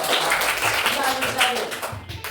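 Children in a classroom clap in quick bursts, the individual claps distinct and fairly close, with young voices talking over them.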